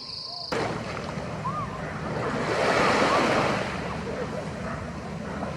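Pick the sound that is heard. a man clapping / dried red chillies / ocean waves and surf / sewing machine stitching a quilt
ocean waves and surf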